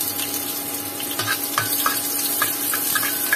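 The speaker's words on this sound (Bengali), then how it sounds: "এবার তেলের মধ্যে একটু পেঁয়াজ কুচি দিয়ে দেবো" Chopped onion hits hot oil in a pan readied for frying okra, giving a steady close sizzle with scattered crackles and small stirring knocks, no talk.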